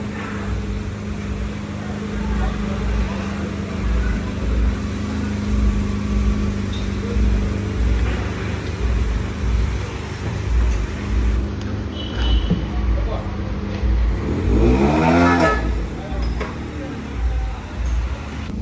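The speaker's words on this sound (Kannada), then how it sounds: "ಈಗ ಗಾಡಿ ಈಚೆ ಬರುತ್ತೆ." A Ford car fitted with freshly installed SSW mag wheels pulls out, its engine giving a steady close rumble that swells into a rising rev near the end, amid faint background noise.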